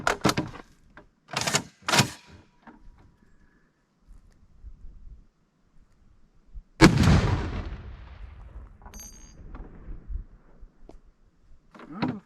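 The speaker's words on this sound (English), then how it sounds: "I actually want to shoot one of the AR 500 plates too. So we're gonna shoot one of those" A .50 caliber rifle firing at AR500 steel target plates, several sharp booming reports with one huge blast midway that rolls and echoes into a long decaying tail, with quieter clatter between shots.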